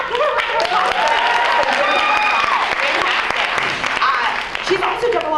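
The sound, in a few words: audience applause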